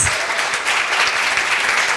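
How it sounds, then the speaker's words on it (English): An audience at a Le Mans 100 panel gives the panelists loud, sustained applause, a thick continuous roar of many hands clapping up close. "Let's give a big round of applause to our panelists."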